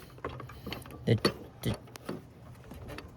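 A socket wrench works an O2 sensor loose on a car, giving a few close ratcheting clicks and metallic clunks, with a brief voice speaking in between.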